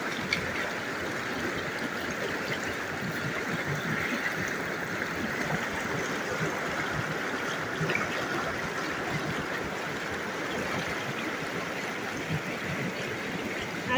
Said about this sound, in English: you can hear the lapping of the water